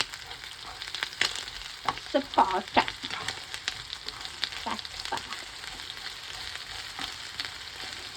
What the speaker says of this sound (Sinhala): මේක දාලා අන්තිමට බාහිර හාල්මස් ටික බැදුනා